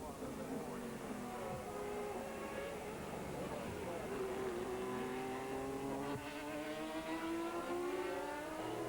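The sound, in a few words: Ferrari sports prototype race car sliding around track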